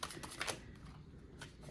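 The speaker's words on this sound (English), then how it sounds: "So I'm going to go ahead and shuffle these" Crisp papery riffling and flicking of oracle cards being shuffled by hand, close up, in quick bursts followed by softer handling.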